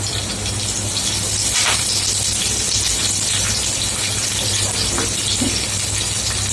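Garlic and curry leaves sizzling and frying in hot oil while fish is prepared, a loud, steady crackling hiss with occasional sharper pops throughout.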